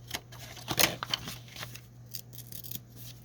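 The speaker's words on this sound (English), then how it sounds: "I'm going to trim it just like I did" Scissors snip through a hinged three-pocket journaling card, a few quick crisp cuts clustered together then lighter paper rustles, close and alone over a faint steady hum.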